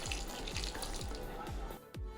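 Hot water is poured into a pan of fish curry. It makes a splashing, gurgling pour with a few watery plops at a steady pace, loud and close.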